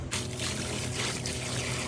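Water gushes and pours steadily for a couple of seconds through a freshly unclogged drain pipe, a close, continuous splashing flow with no voices over it.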